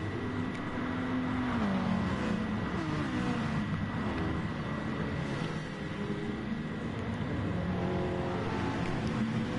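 Race cars in Gran Turismo Sport on the Red Bull Ring circuit drone in a pack, engines whining and shifting pitch as they rev and pass, a continuous layered motor roar with no talking.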